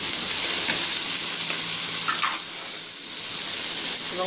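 Onion slices, capsicum and green chilli sizzle loudly in hot oil in a pan over high heat, a steady close frying hiss with brief stirring scrapes and no voices.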